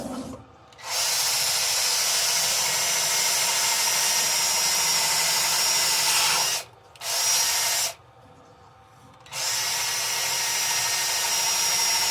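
Power drill spins a sanding pad against a round-bottomed apple wood bowl, a loud steady whine running in long stretches broken by two short pauses, close up, with no talk.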